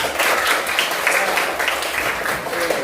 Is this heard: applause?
yes